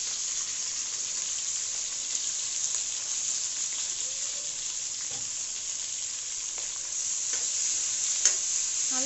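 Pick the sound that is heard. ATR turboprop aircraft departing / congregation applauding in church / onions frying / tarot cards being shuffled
onions frying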